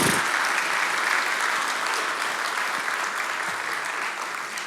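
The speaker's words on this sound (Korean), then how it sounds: "엄마들한테 뜨거운 박수 한번 쳐주세요." Church congregation giving warm applause for the mothers during a Sunday worship service, a dense, even roar of many hands clapping that fades slightly over several seconds with no talk.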